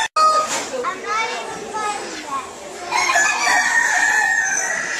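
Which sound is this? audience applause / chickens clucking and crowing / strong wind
chickens clucking and crowing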